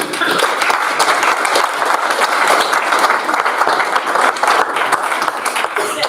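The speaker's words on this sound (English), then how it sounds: "So another round of applause for a very" A conference audience gives a steady round of applause, a loud, continuous wash of many hands clapping that fills the room for several seconds.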